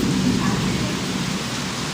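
Heavy rain falls in a dense hiss with a low thunder rumble beneath, loud and close at first and then easing slightly over a brief stretch.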